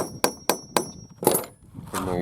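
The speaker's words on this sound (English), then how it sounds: "Then you just hammer that flat." Four sharp metal hammer strikes flatten a cable end splice for trapping, evenly spaced at first and then a slightly louder blow, close by, followed by someone speaking.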